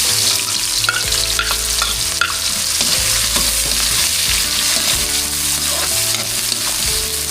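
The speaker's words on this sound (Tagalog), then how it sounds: "Gisan na po natin yung ating bawang sibuyas tsaka luya." Garlic, onion and ginger sizzling in oil reused from frying, loud and close, with a dense steady crackle and repeated scrapes of stirring over a low hum, no voices.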